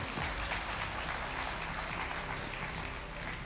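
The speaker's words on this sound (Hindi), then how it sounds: "तो एक बार ज़ोरदार तालियां उनके लिए" Audience applause at a network marketing seminar, a dense steady wash of clapping holding at an even level for a few seconds, with a faint voice briefly underneath.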